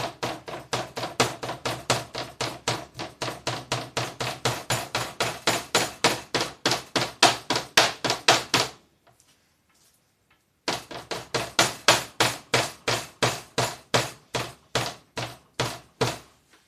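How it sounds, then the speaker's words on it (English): Knife dicing onions on a cutting board in rapid, steady chopping strokes, close and crisp, pausing briefly before resuming the rhythmic chops. "I need to dice up some onions, maybe some carrots, some split peas."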